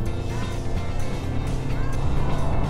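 A 2.5 litre turbo van accelerating on a circuit, a steady low engine drone with road and wind noise, fairly loud and continuous, with a voice briefly audible over it.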